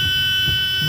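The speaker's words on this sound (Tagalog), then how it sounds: "Nag-fire alarm ata yung sasakyan." A car's alarm sounding, a steady electronic buzzing tone with sustained high pitched whine, loud and close for the full second.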